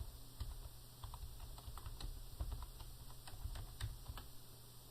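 Someone types a name on a computer keyboard, with quiet, close key clicks coming in quick irregular bursts over a faint steady hum.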